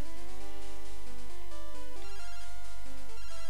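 Electronic chiptune phone ringtone from Pokémon Silver, a bright melodic jingle of stepped beeping tones playing continuously over game music, with no voices.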